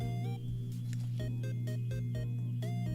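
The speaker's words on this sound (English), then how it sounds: "The alarm is going off again." A car alarm blares from outside, a repeating electronic tone in quick pulses with a steady hum beneath, heard at a distance and fairly faint.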